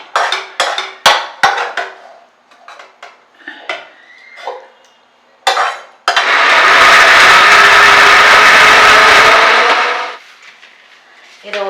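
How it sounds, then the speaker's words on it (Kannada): A mixer grinder whirs steadily for about four seconds as it grinds cooled, cooked onions, after a run of dish and utensil clatter on a kitchen counter. "ಇದನ್ನ ಮಿಕ್ಸಿಗೆ ಹಾಕ್ಕೊತ ಇದ್ದೀನಿ."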